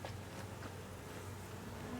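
Honeybees hum in a steady, continuous drone from an open nuc hive during an inspection, close and even in volume, with no talking over it.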